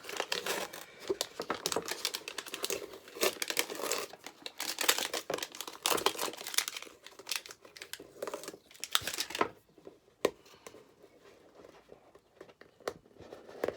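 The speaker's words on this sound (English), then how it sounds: "Then remove the rest of the backing paper." Backing paper is peeled from a handmade lilac mini album, giving close, crisp crinkling and rustling in quick bursts that thin out into a few sparse crackles near the end.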